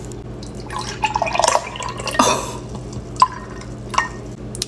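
Whole cream-top milk poured out for drinking, giving a few short splashy trickles and drips, close and moderately loud, over a low steady background hum.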